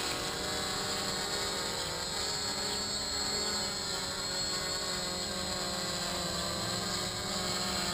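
A HoverThings HT-FPV drone with NAZA M GPS hovers and auto-lands, its rotors a steady, loud, close whine and buzz that fills the whole stretch without a break.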